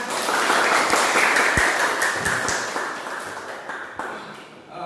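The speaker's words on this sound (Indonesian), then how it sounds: "Kita kasih tepuk tangan semuanya." A class of students claps for their teacher at a school in Brebes, a dense burst of applause that gradually tapers off over a few seconds.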